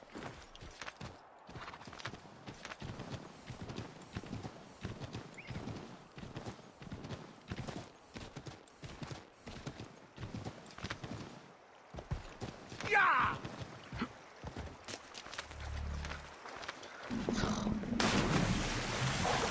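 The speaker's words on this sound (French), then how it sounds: "Oui, c'est un cheval, gentil cheval." Horse hooves clip-clop at a steady walking pace in the Assassin's Creed 3 video game, rhythmic and fairly close, with ambient game sound, running water and a short whinny-like noise near the end, and someone talking over parts.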